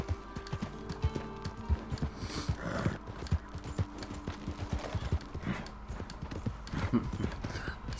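Rhythmic clip-clop of horse hooves running over ground in Red Dead Redemption 2, steady and continuous for several seconds, with faint mechanical background sounds.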